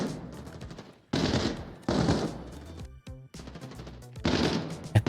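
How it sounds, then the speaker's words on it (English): Bursts of rapid automatic gunfire in the shooter game Arena Breakout Infinite, several volleys with short gaps between them, a few separate single shots, and a final louder burst, all moderately distant. "I started hearing shots."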